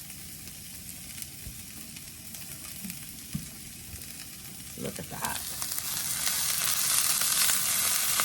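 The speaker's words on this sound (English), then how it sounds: "Nice sizzle." Onions, peppers and potatoes for a veggie scramble sizzle in a frying pan with a steady, close crackle that grows louder toward the end, with a brief spoken remark partway through.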